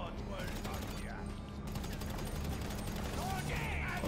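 Rapid gunfire in a GTA 5 heist mission aboard a submarine, a dense steady crackle of shots with mechanical clatter running throughout, loud and continuous.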